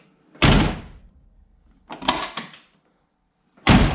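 A Foxbody Mustang car door slams shut hard three times, loud close thuds separated by quiet gaps, with a rattle of the latch between the first and second.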